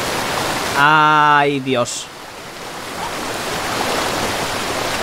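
Steady broadband rush of water falling through a cascade, continuous across the whole stretch, with a short excited male exclamation near the start.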